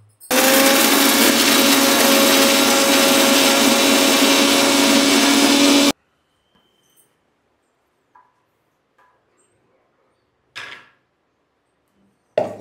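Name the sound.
mixer grinder grinding cumin and salt for chutney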